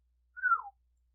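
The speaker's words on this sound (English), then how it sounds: "Vlad whistles low and soft." A single soft, low whistle from a person, one brief gliding note that falls in pitch, quiet and alone.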